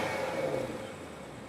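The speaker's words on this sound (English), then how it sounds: "Punch up the sport mode, and not only is there a cool light show from the crystal trim surrounding the cabin, it also alters the exhaust note" A 2023 BMW 760i xDrive in sport mode gives a steady, throaty engine and exhaust drone with a brief rev, heard alone and fairly close for a short stretch.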